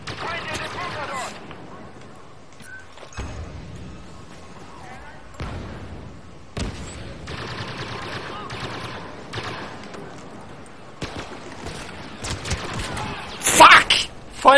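Blaster gunfire in the Star Wars Battlefront game, droid run mode, with sharp shots and bursts scattered through a busy battle mix, loudest near the end, with speech over it.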